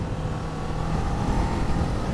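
A 2023 Kawasaki Z400 motorcycle being ridden, a steady loud engine drone with wind rush, holding a constant pitch throughout without talk.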